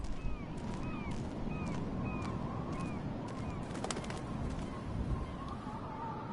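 Birds call repeatedly in a short, rising chirp pattern over a steady ambient bed in the video game Life is Strange, fairly clear and mid-distance, with no talk.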